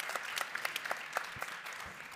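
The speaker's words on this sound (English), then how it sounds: "we all should give another round of applause for Colombia making both peace and education one single project" Audience at a conference applauding, a brief burst of steady clapping from a room full of people, fairly close and without talk over it.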